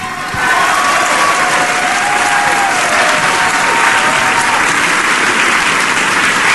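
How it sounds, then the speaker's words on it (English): Sustained applause on a radio show: a dense, steady wash of clapping that fills the whole stretch at full strength after a brief softer start. "The applause today go out to Rob"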